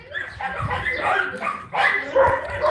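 A breeding dog barks and yips in short, loud bursts close by, with people talking over it.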